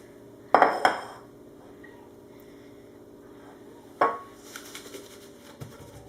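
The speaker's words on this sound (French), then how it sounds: "Je vais le taper un petit peu comme ça pour que ça s'équilibre." A cheesecake pan is rapped on a kitchen counter to level the batter, two sharp metallic knocks a few seconds apart with ringing tails, then faint clinks in an otherwise quiet room.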